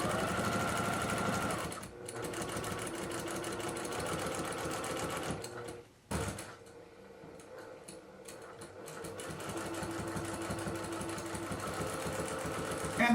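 Sewing machine stitching minky fabric on a weighted blanket, running steadily and loud and close across the whole stretch, with one brief pause midway before it resumes.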